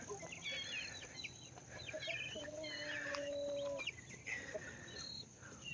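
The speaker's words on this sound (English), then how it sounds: "There's the other rooster." A rooster and several chickens cluck and call in a backyard flock, a mix of short chattering clucks and a longer drawn-out call, moderately close over a soft outdoor background.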